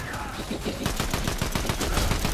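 An assault rifle fires rapidly in Fortnite VR, with a steady stream of close, loud shots in quick rhythm that grows denser toward the end.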